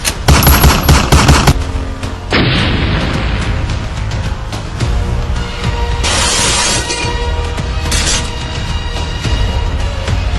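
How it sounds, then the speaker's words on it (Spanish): Dense gunfire with rapid machine-gun bursts, loud explosions and crashing impacts in a chaotic street scene, all sustained at high volume with no speech. "explosiones, balas y choques era lo único que se escuchaba"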